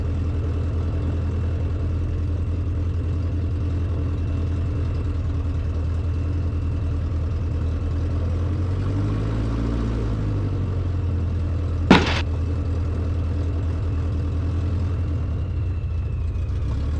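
A Continental engine on a Zenith CH 750 Cruzer aircraft idles steadily at close range, a low droning hum with a slight pitch dip midway and a brief sharp click near the end.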